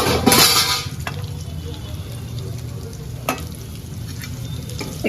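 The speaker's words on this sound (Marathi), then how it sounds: "कांदा पण थोडासा आपण फ्राय करू याच्यामध्ये." Chopped onion fries in a pan for noodles, a steady close sizzle opening with a louder burst and a few spoon scrapes against the metal.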